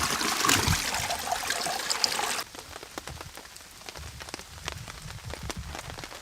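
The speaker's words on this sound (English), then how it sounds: "Still raining." Steady rain patters on a bushcraft campsite, loud and dense at first, then easing after a couple of seconds into lighter, scattered drops striking nearby surfaces.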